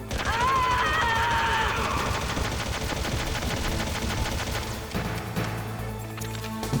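Gunfire rattles in the stealth video game Metal Gear Solid as bursts of rapid shots over a busy game soundtrack. A sharp whistling tone appears early, and the firing thins near the end.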